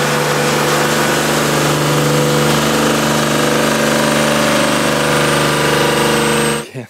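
A tractor engine drones loudly and steadily up close in a field, a constant low rumbling hum that continues unbroken before cutting off at the end.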